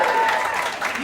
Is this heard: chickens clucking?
no